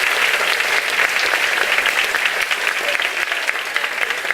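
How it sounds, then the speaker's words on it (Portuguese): A church congregation applauding during an Easter service, dense sustained clapping from many hands filling the room, loud and even throughout, with no distinct voices on top. "Levante a sua mão bem alto e aplaude a Jesus"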